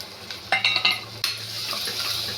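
Fried masala and peanut paste being mixed in a pan, with a few sharp spoon knocks and scrapes against the metal over a low steady sizzle, close and fairly loud.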